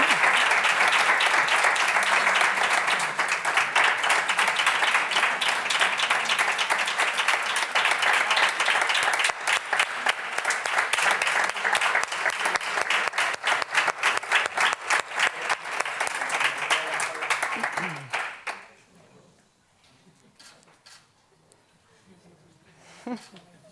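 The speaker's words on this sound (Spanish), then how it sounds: "Un aplauso para ellos" A school audience applauds students at a school contest award, steady loud clapping sustained for about eighteen seconds before tapering off into a quiet room with scattered claps.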